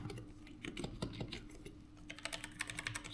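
Typing on a Razer Huntsman V2 keyboard, a steady run of quick, close key presses with clustered bursts and no voices.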